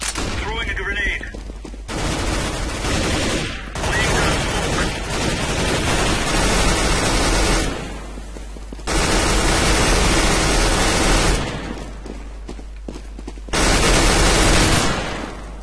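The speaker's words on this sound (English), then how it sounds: "Flashbang. Throwing a grenade." Grenade and flashbang blasts with bursts of gunfire in a CS:GO competitive match on the Mirage map, loud broadband noise coming in several long, harsh waves with brief quieter gaps between them.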